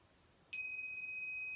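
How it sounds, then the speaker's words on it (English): A single clear bell ding strikes once and then rings on with bright, sustained pure tones that slowly fade, heard alone against a quiet background. "the bells,"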